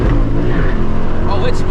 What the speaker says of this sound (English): Ooh, that's some backfires.